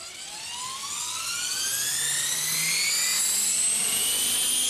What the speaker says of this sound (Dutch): De helikopter, dames en heren, die draait warm.